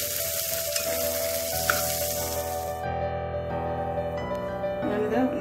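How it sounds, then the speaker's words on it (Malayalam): Chopped tomato and onion fry steadily in a pan for a spicy channa masala gravy, giving a constant close sizzle with a faint hum underneath and no talking. "ഇത് വറക്കിയെടുക്കട്ടെ"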